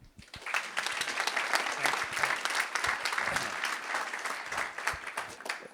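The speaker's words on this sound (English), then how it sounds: "Please give big applause for Mr. Dragan." An audience claps steadily, a dense, sustained round of applause at moderate volume that carries through to the end.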